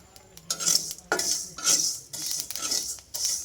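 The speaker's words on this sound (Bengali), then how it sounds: "দেখতেই পাচ্ছেন আমার এখন পাঁচ ফোড়নটা ফোটা শুরু করে দিয়েছে" Panch phoron spices frying in a pan, with a run of crisp crackling pops and light sizzling in bursts, mixed with close clinks and scrapes of a utensil against the pan, no voices.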